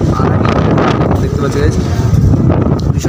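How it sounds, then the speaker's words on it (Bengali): Strong wind buffets the microphone with heavy rumbling gusts during heavy rain in a Tamil Nadu village, loud and close, while a person talks over it. "ভীষণ একটা বৃষ্টি হচ্ছে গাইস"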